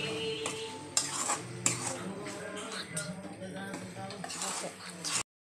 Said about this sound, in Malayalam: എന്നിട്ട് ഇനി അത് വഴന്ന് വന്ന വരെ ഒന്നും കൂടി നമുക്കൊന്ന് ഇളക്കിക്കൊണ്ടിരിക്കുക.